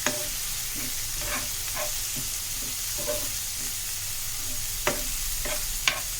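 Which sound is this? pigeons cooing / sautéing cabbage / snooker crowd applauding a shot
sautéing cabbage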